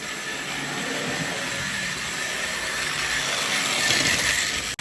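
A Hornby OO gauge Battle of Britain class steam locomotive model, 21C166 Spitfire, running on track after repair: a continuous close motor whirr and hiss with faint rail rumble, steady throughout.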